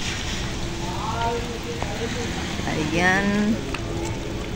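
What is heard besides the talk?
rain falling on roof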